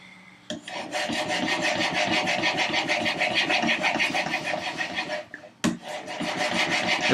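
A plane iron rubbed on a sharpening stone with fresh fluid, a close, steady back-and-forth rasping scrape that stops briefly near the end and then resumes.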